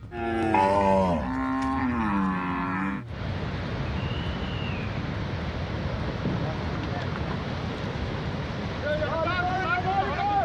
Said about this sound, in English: Ankole cattle are known for their enormous curved horns.